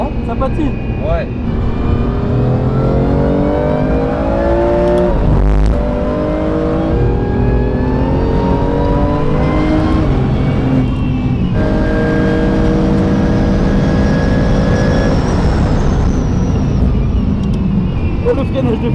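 BMW M4 tuned to 920 hp accelerating hard with its tyres spinning, a loud, continuous engine roar rising through the gears under excited talk from people in the car.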